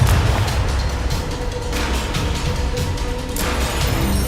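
Expulso exploding spell blast in Hogwarts Legacy, a sustained loud rumbling boom with crackling bursts and a fresh surge late in the clip, dense and close, with no speech.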